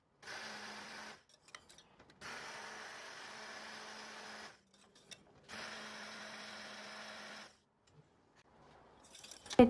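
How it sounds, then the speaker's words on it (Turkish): A blender purees softened cooked raspberries in two long steady whirring bursts, each lasting a couple of seconds, with short pauses between them and a clatter at the end. "Bir blender yardımıyla püre haline gelene kadar çekiyorum."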